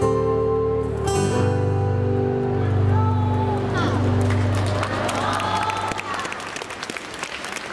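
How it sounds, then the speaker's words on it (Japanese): Audience applause and cheering after a hula school's performance at a Hawaiian festival stage in Nagoya, 2017, rising as the music's sustained tones fade, with crowd voices and a speaker audible over the clapping. "今一度盛大な拍手をお送りください"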